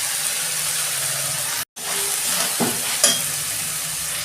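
Drained banana flower goes into a pan of fried spices with a steady broadband sizzle and stirring, a brief drop-out, then a couple of sharper bursts of crackle as it hits the hot oil.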